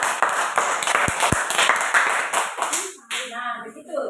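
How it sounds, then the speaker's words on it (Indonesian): Students in a classroom clap for their classmates, a steady patter of many hands close by that fades out, followed by a voice speaking. "Kasih tepuk tangan dulu buat teman-teman."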